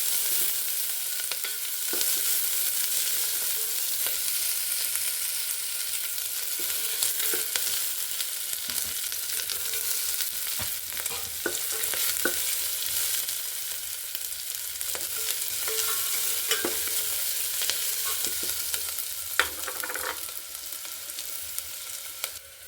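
Onions frying in a pan for a brinjal palya, with a steady close sizzle running throughout and occasional clicks and stirring scrapes, no voices.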